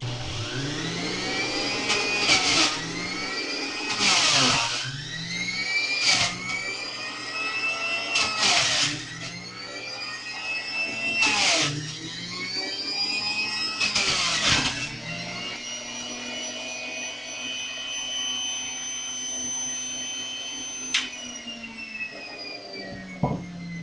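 An electric juicer runs loud and close while carrots are fed in, its steady motor whine broken by repeated bursts of grinding as each carrot is pushed through, then settling into a smooth hum.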